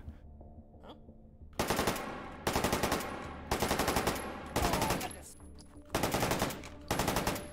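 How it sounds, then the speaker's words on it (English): Full-auto SKS rifle firing in H3VR, six loud bursts of rapid shots about a second apart separated by short pauses, close and sharp, with a faint voice in the background. "Funny SKS now full auto."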